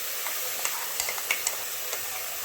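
A ground spicy masala paste sautés in oil in a pan for a homestyle chicken rassa. A soft, even sizzle is broken by light ticks and scrapes from stirring.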